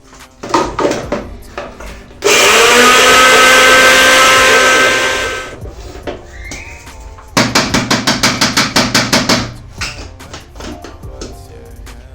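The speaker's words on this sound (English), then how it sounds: "So we are going just to grind these oats." An electric blender grinds dry oats for oatmeal pancakes, a loud steady whirring roar lasting about three seconds, followed later by a rapid series of sharp pulsing bursts, with clattering kitchen knocks around it.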